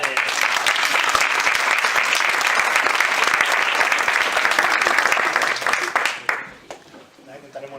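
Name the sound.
applause for Miguel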